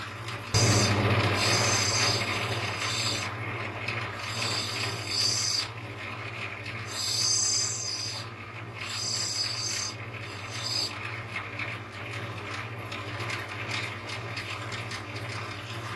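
Continuous abrasive grinding of a large stone with impurities as its top is rounded down, a steady rasping drone with a low hum underneath that swells and dips throughout, no voices.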